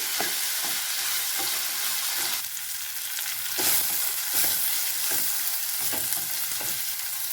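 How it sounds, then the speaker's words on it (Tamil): Grated radish sautés in a hot pan for chutney, a close, constant sizzle broken by repeated scraping strokes of a spoon stirring every second or so, with no voices. "முள்ளங்கி வந்து அதோட பச்சை வாசம் போகிற அளவுக்கு நல்லா வணக்கிக்கணுங்க"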